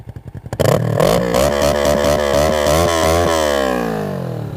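Motorcycle fitted with a Yoshimura aftermarket exhaust and stock air filter, revved repeatedly after a start-up: loud, close, rising and falling blips of engine roar in a steady rhythm, fading slightly at the end.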